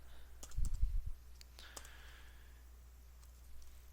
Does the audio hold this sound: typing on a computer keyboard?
yes